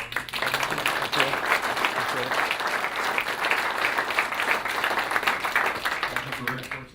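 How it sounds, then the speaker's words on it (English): An audience at a grass expert's course session gives a round of applause, sustained clapping from many hands, steady and fairly full, with a few voices mixed in before it tapers off. "I'd like to suggest a round of applause for"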